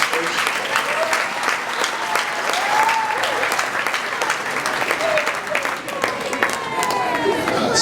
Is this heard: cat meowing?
no